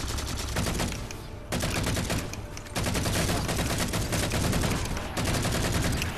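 Dense automatic gunfire during a Halo 4 co-op campaign firefight, rapid continuous bursts filling the scene with brief pauses between volleys, loud and close with no talk over it.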